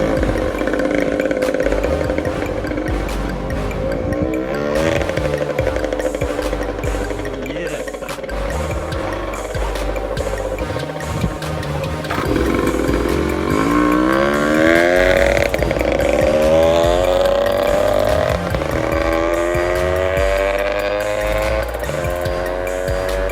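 A small Suzuki pit bike engine running after repair to its spark plug, fuel and oil, a loud, steady buzzing idle that rises and falls as the throttle is blipped, heard close up for the whole stretch.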